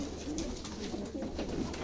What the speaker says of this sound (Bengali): এই যে এই যে কবুতরগুলো দেখেন।